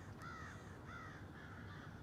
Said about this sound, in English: There's an angry crow there.